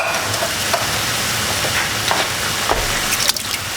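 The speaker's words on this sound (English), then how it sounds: "we're going to put in our 3 cans of, in this case, diced tomatoes." Three cans of diced tomatoes pour into a pot of stew on low heat, making a steady, loud, wet, sizzling rush that runs unbroken with no talking.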